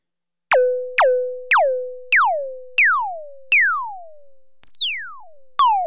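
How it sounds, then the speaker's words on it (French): Kong synthesizer tones sound in a series of eight struck notes, each bending downward from high to low, with the sweeps growing slower and longer as the sequence goes on; loud, clean and without talk. "Le temps que met le pitch bend à se faire entendre de l'aigu au grave est paramétré par la fonction bend decay ici."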